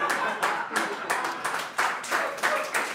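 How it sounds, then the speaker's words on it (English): A studio audience at a variety show claps in a steady, rhythmic beat, roughly two claps a second, with distinct repeated slaps rather than a blended roar, fairly quiet and under faint talk. "Why are you clapping that?"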